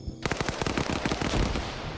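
Rapid, dense automatic gunfire erupts after a short quiet start, a loud sustained barrage of overlapping shots at the opening of a video game match.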